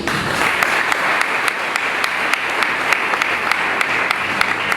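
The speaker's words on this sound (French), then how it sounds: "Vous êtes priés d'applaudir les gradués." An audience at a faith ministry graduation commencement in Haiti applauds the graduates, dense continuous clapping with a few sharper claps standing out, steady for nearly five seconds.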